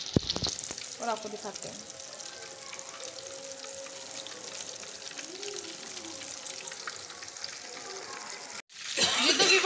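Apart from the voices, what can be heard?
Chira fish frying in a pan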